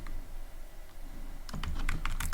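Code being typed on a computer keyboard: a brief quiet stretch, then a quick burst of close, crisp key clicks in rapid succession.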